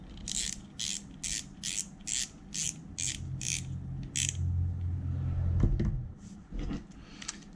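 Small mechanical clicking and ratcheting as the drag cap is refitted on a Sixgill Karve 3000 spinning reel: a rhythmic series of about nine close, crisp ticks, then a low whirring spin and a few scattered clicks.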